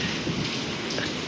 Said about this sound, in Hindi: इस साइड में ऊपर देखेंगे ना तो बारिश तो अभी तक जारी है